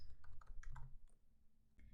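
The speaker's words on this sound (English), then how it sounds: "You can enter notes by clicking or by typing on your keyboard." Keys clack on a computer keyboard as notes are typed into music notation software, a quick irregular run of close, fairly quiet taps that thins out into a pause before a last tap.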